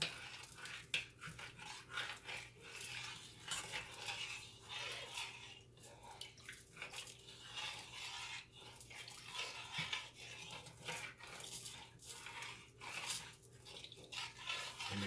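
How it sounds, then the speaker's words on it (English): Lemon meringue pie filling thickened with cornstarch being stirred in a pot with a spoon, continuous faint scraping and swishing strokes in a steady rhythm, quiet and close, with no talking. "We constantly stirring this now"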